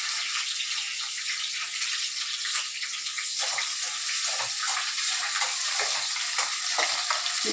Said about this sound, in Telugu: ఇప్పుడు మనం వేసిన మసాలాలు ఉల్లిపాయ చక్కగా ఎర్రగా వేగాలి.